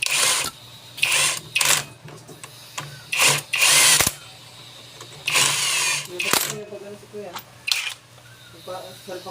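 A power tool fastening the four screws on the clutch of a Kawasaki Barako 175 motorcycle engine, in repeated short whirring bursts of a second or so separated by pauses, close up, with someone talking in between.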